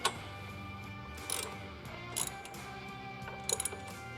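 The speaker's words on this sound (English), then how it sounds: "we can go ahead, tighten this side down." A ratchet wrench tightens a bolt on a Hogworkz engine guard crash bar with fairing support on a Harley-Davidson, giving a few short clicking bursts over steady background music.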